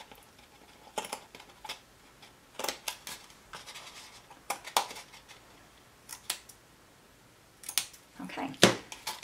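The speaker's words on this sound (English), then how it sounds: "I also want to create little slices in the felt to give me the look of a fringe for the scarf." Scissors snipping felt to cut a scarf fringe, a series of crisp, close cuts in uneven clusters with short pauses between them, with faint speech in the background.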